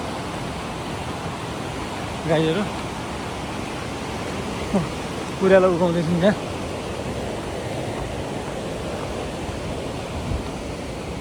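The Giregad stream, a rural hillside khola, runs with freshly arrived water, giving a continuous broadband rush that stays steady throughout while someone speaks briefly over it twice.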